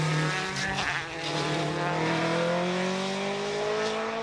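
Rally car on a fast asphalt stage with a chipped second-gear tooth, engine held high against the rev limiter, a loud steady drone with a rising pitch, no talk over it.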